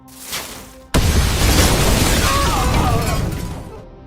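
An improvised grenade blasts inside a house in a film scene: a sudden loud boom after a quiet moment, followed by a sustained roaring rumble and debris noise that slowly fades out.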